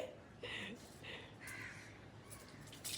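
Several harsh crow caws in quick succession, fairly close, with faint voices murmuring in the background.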